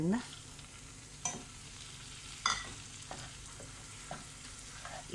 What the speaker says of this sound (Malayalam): ഈ ബട്ടറിൽ ഒന്ന് വറക്കണത് എന്താണെന്ന് വെച്ചാൽ നല്ലൊരു മണം വരാൻ വേണ്ടിയിട്ടാണ്